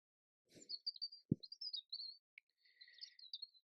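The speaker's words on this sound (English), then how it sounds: "You hear the birds?" Small birds chirp in a blossoming garden in February, with faint thin high tweets and short warbling phrases coming in quick bursts, plus a soft rustle and one brief low knock, and no talk over them.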